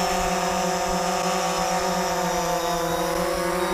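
A DJI Phantom 4 quadcopter descends to land about two metres off the ground, its rotors producing a loud, close, unbroken high whine with layered tonal harmonics and no voices.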